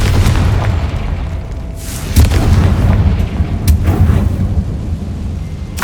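A Confringo spell explosion in the Hogwarts Legacy video game: a loud, deep boom with rumbling blasts and a few sharp bursts, sustained across the whole stretch.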